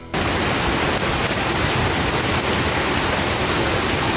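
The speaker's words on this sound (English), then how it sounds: "to let it drain and begin to sparge with 1 gallon of 170 degree-ish water" Hot water at about 170 degrees pours steadily into an Anvil Foundry brewer to sparge the grain, making a loud, continuous rushing splash that starts abruptly and stays even.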